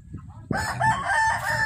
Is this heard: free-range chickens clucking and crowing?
yes